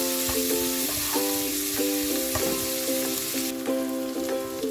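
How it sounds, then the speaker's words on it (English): Garlic sautés in a pan for pork adobo, giving a steady, close hiss of frying with faint stirring, all beneath background music. "Saute the garlic until light brown."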